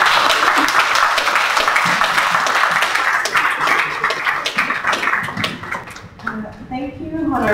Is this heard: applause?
yes